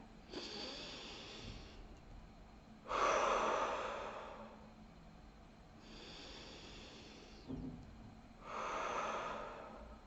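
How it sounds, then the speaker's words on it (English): Slow, deep breaths in a guided meditation, four long airy inhale-exhale swells spaced a few seconds apart, close and steady with no talking. "Take a few deep breaths there."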